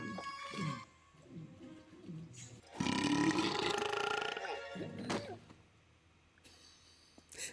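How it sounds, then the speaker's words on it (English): A loud, drawn-out belch from an animated fantasy show rumbles through the middle of the scene, between stretches of dialogue and background score. "Didn't you announce yourself with a belch?"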